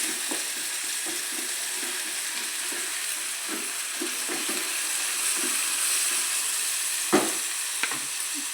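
Frying in a pan with steady stirring, a continuous hiss of sizzling oil broken by repeated soft scraping strokes and a couple of sharper utensil knocks near the end.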